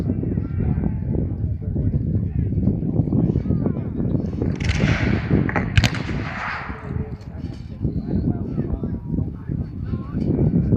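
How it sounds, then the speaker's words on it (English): Cannon fire at a US Civil War re-enactment booms out as a loud blast and roar near the middle, amid a steady din of musketry and crowd noise, with someone talking throughout. "And the cannon have come into play as well."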